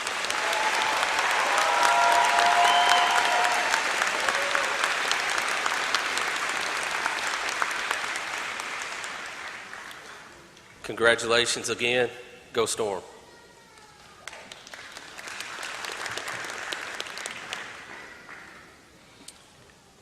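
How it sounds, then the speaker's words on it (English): Graduates are applauded by a large crowd at a summer undergraduate commencement ceremony, sustained clapping for about ten seconds that fades out, followed by a speaker talking over a public address system. "let's give these graduates one more large round of applause"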